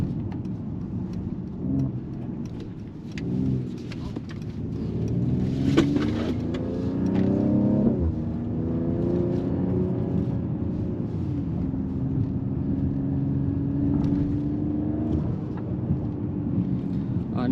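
2024 Mercedes-AMG GLE 53 4Matic+ SUV with a 429 hp engine accelerating uphill, heard from inside the cabin as a rising engine tone through gear changes, with a few muffled exhaust pops along the way.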